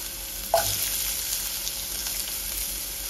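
A medium onion, roughly cut, frying with two red chillies in a pan: steady crackling sizzle, with a sharp clink of a spoon against the pan near the start.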